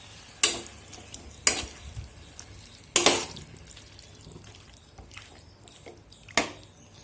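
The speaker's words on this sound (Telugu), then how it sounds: "పచ్చివాసన పోయే వరకు ఫ్రై చేసుకోవాలి" Chicken in ground biryani masala paste frying in a pan, a low sizzle punctuated by a few sharp, spaced scrapes and clatters of a spoon, no voices.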